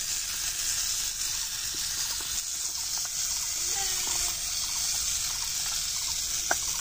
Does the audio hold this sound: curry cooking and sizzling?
yes